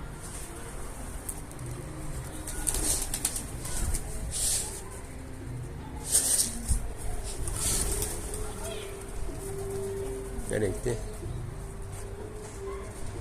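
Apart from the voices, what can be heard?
birds flapping and cooing near a chicken coop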